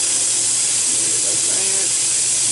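Cold tap water running into the reservoir of a vintage 1992 Black & Decker thermal carafe coffee maker, a loud steady hissing stream, close and continuous throughout, with a faint voice underneath.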